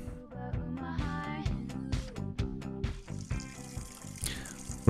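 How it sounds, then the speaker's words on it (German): Shower water running in The Sims 4, a steady splashing spray heard under a busy bed of melodic game music and chimes. "Frisch eine Dusche nehmen."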